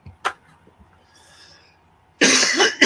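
A person coughing indoors during a live stream: one short cough near the start, a quiet stretch with faint background sound, then a louder, harsher burst of coughing at the end.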